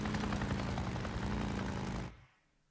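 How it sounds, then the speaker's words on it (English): A helicopter in the video game Days Gone flies overhead with a steady, loud rotor and engine drone that holds for about two seconds, then cuts off abruptly into quiet. "I wonder what the helicopter, I wonder what that thing's doing"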